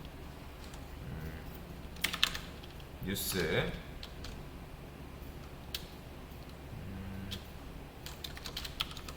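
Soft clicking of typing on a computer keyboard while entering a search keyword, faint scattered keystrokes with a brief louder burst of activity midway, and someone talking quietly at times.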